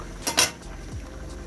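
Two quick metallic scrapes of a utensil against a cooking pot while food is stirred once or twice, close and brief, followed by quiet kitchen background.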